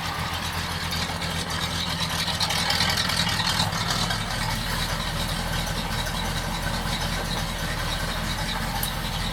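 A 1951 Chevrolet 3100 pickup with an automatic and a straight-piped V8 idles nearby, a loud, steady, throaty rumble with a low, lumpy pulse that carries on evenly, no voices over it.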